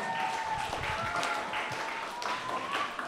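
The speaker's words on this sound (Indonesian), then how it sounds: "Tepuk tangan dong, sepi banget." A crowd of students and staff at a junior high school event in Jakarta applauds steadily for a few seconds, a dense wash of clapping at moderate volume.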